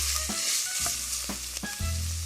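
A homemade chili mixture sizzles and fries in a pan, with loud, continuous crackling and a few scrapes from stirring, and no voices.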